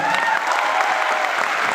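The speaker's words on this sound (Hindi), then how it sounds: "मैं सबसे पहले एक बार जोरदार तालियां चाहूँगा मेरे great mentor Shri Alpesh Gajjar sir के लिए" Loud, dense applause from an audience at a Modicare stage event in Jaipur, continuous crowd clapping filling the short moment without pause.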